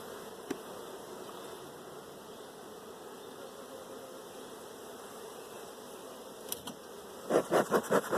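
Honey bees hum steadily around open hive frames during a honey harvest, a continuous close buzz with a few clicks, then a quick burst of loud rapid knocks near the end.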